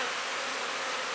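Honey bees shaken off a frame into a cell builder hive make a dense, steady buzzing swarm drone, close and continuous.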